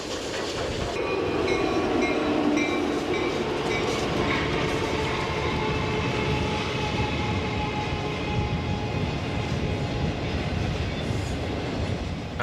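The SP&S 901 Challenger steam locomotive rolls downgrade with an FP45 diesel, its train passing close by in a loud, continuous rumble of rail cars, clickety-clack wheels and faint squeals.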